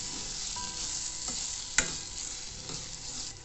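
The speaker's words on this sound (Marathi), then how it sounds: "व्यवस्थित मिक्स करून घेऊया।" Homemade schezwan chutney with tomato juice being stirred in a pan: a soft continuous fry with scattered spoon scrapes and one sharp clack partway through, fairly quiet and without speech.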